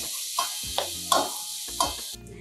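Shyama rice frying in a pan, with several distinct stirring scrapes over a steady faint sizzle, each stroke a short close clatter.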